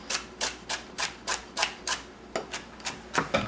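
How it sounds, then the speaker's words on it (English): A knife chops vegetables for broccoli cheddar soup in a steady rhythm of about eight crisp, evenly spaced strikes on a cutting board, close and fairly quiet, with no voices. "we're going to chop it all up"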